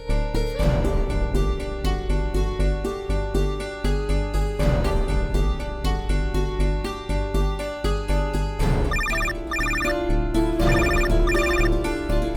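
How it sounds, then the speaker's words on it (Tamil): An incoming-call ringtone sounds loudly and continuously on a mobile phone in a Tamil television serial, a dense, rhythmic musical tune with repeated pulsing beats and bright chiming accents, playing alone without talk. "அக்கா, மாமா கால் பண்ணிருக்காருக்கா."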